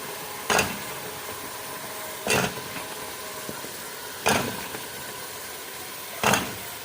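Taro root stirred into mutton frying in a pot, a steady sizzle broken by four sharp scraping stirs spaced about two seconds apart.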